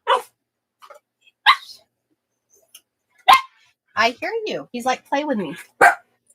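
A pet dog gives several short, sharp barks close by, scattered between bursts of a person talking.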